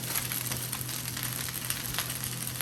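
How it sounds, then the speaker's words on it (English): Food for pad Thai with vegetables, chicken and egg sizzles steadily in a hot wok, a continuous crackling hiss with small pops and clinks, no talking. "You hear the sizzle?"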